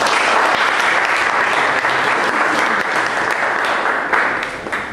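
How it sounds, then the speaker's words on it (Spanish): An audience at a poetry and writers' gathering breaks into loud, sustained applause to welcome a writer, dense clapping that stays full before easing slightly at the end. "Un aplauso para él, por favor."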